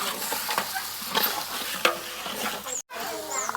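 Chopped tomatoes added to a big pan of chicken gravy and stirred, a loud wet sizzle with scraping ladle strokes and occasional clanks throughout.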